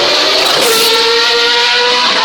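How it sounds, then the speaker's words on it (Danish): Formula 1 race cars driving on a track in Århus, Denmark, a loud close engine whine with shifting pitch as a car accelerates past, continuous and dominant with no voices. "vi så har Formel 1-bilerne på banen igen, og det lydbillede, det er jo det, som der er mange, der har gået og ventet på"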